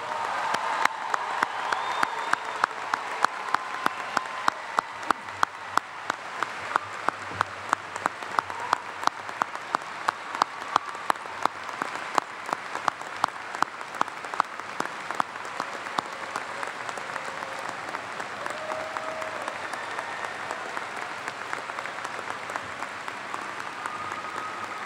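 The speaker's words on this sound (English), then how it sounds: "Let's give them a round of applause." Sustained applause from a large crowd at a 2011 Augusta State University graduation ceremony, a steady wash of many hands clapping in a big hall, moderately distant and continuing at an even level throughout.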